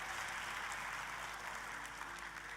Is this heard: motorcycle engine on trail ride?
no